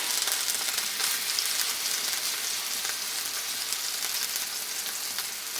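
Rinsed, drained pasta dry-fries in a hot pan, giving a loud, steady, hissing sizzle that runs unbroken from start to end, close by with no voices.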